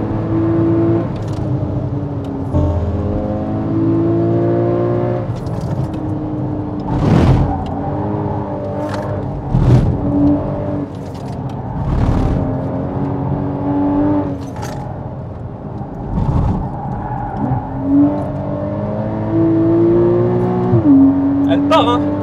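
Porsche Cayman GTS engine pulling hard on a race circuit, revs climbing and falling through repeated gear changes, loud and close from inside the car, with two people talking throughout.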